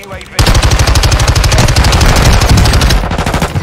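Rapid, loud automatic gunfire from the shooter game Warzone rattles in a steady burst for about three seconds after a brief quiet start, close and dense.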